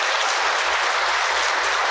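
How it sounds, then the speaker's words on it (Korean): Congregation applause at a church revival meeting in Jeju, a steady, dense wash of clapping held at an even level throughout without any talk. "우리 추자도교회를 위해서 박수 한번 쳐드릴까요?"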